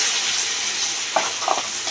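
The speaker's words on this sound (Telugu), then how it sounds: "ఇలా నూనెలో వేపుకోవాలన్నమాట దీన్ని నూనెలో వేపుకుంటే" Steady hiss of coriander chutney frying in hot oil, with a few brief stirring scrapes near the end.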